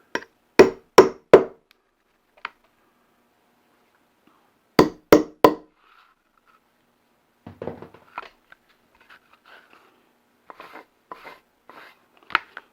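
Leather punch hammered through a forend wrap for a Winchester 1887 shotgun, sharp close knocks in quick sets of three with pauses, then softer scattered taps and rustles.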